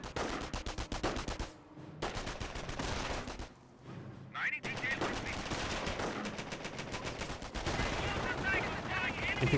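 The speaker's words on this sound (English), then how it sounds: "We do have the right squad being suppressed by the MG42." MG42 machine gun bursts from the video game Company of Heroes rattle out in rapid, sustained strings, mixed with other gunfire and battle noise, loud and continuous with only brief pauses.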